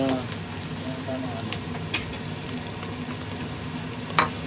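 Garlic, ginger and onion sizzle and fry in a pot for chicken adobo, a continuous close crackling hiss with occasional stirring knocks.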